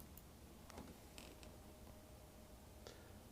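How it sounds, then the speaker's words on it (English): Electronically controlled cooling louver shutters in a car grille opening slowly, heard as faint, scattered creaks and soft mechanical clicks over a steady low background hum. "So I'm going to open them here."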